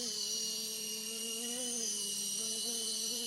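An RC Era C189 model helicopter's electric motor whines steadily, its pitch climbing slightly as the throttle is pushed up, a close, thin buzzing tone with rotor hum underneath and no voices over it.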